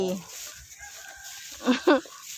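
Chickens cluck and a rooster crows at an organic farm in Chaiyaphum, Thailand, with two short loud calls standing out near the end over quieter farmyard background.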